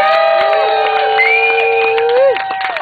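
A large crowd at Fighting Bob Fest, an outdoor political rally in Wisconsin, cheers and whoops loudly and steadily, sustained voices and shouts rising and overlapping before trailing off near the end.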